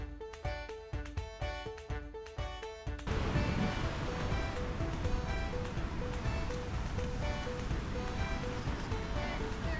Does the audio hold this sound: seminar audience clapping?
no